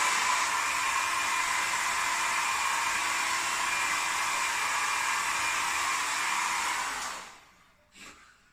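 A hair dryer blows steadily with a loud, even whoosh, then switches off near the end, followed by a brief soft click.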